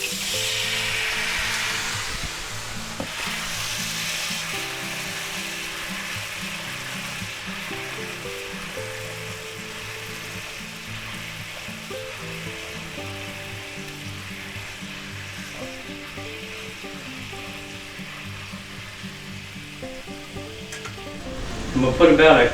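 Saved steak marinade sizzles steadily in a cast iron skillet over a medium-low burner, a continuous close frying hiss with light stirring, while music plays underneath throughout.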